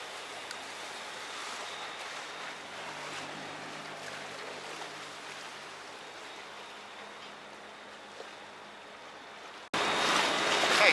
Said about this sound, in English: Okay, so we made it onto the boat, and now we get a little tour along the canal.